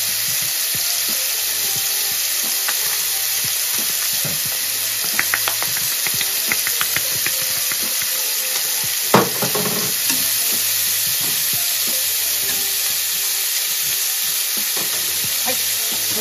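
Meat sears and sizzles in a hot pan with a steady loud frying hiss, while occasional scrapes and taps of a utensil stirring it sound over the top.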